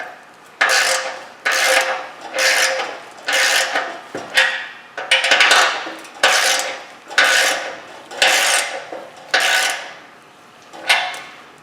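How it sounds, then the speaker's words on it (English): A wrench ratcheting to tighten a muffler clamp onto an exhaust pipe, heard as about a dozen loud, close rasping strokes in a steady back-and-forth rhythm, each separated by a brief pause. "And then we'll tighten up the muffler"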